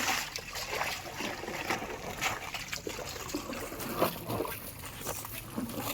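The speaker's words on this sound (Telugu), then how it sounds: "నార్మల్గా వాటర్లో జాడిచ్చేస్తానండి" A saree dunked and rinsed in water, giving steady sloshing, dribbling and splashing close by with no talk.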